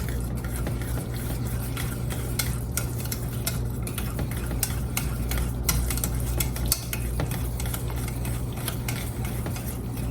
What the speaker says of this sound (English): So we're going to whisk this together.